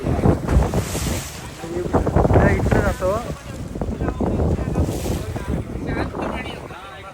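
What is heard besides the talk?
strong wind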